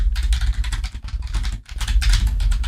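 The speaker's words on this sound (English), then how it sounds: "let's start by typing that in here" Rapid clattering keystrokes on a computer keyboard while code is typed, an uneven burst of close clicks with a brief pause partway through, no voices.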